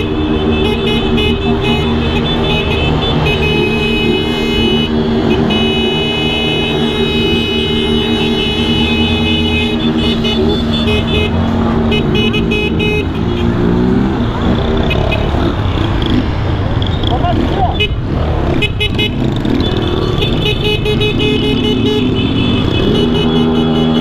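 Motorcycle couriers honk horns through the city of Poços de Caldas in a tribute, a loud, continuous din of overlapping horn blasts over running engines, with voices mixed into the traffic noise.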